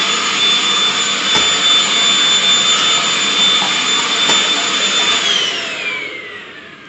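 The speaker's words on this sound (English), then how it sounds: "I like to use my old Makita vacuum cleaner" A small Makita handheld vacuum cleaner, used to clean up a fireplace, runs with a loud, steady high-pitched whine, then powers down and fades as the motor winds off.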